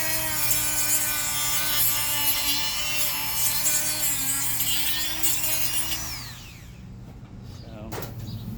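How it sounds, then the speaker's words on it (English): A Dremel rotary tool whines as it cuts through a laminate wood floor tile, a loud, steady high-pitched grinding close by that winds down near the end, with someone talking over it. "I'm cutting with the Dremel, and I'm trying not to touch the laminate"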